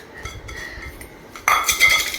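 Pani puri churma being mixed with lemon juice in a bowl: soft scraping and stirring, then from halfway a louder burst of clinking spoon-on-bowl contact that continues to the end.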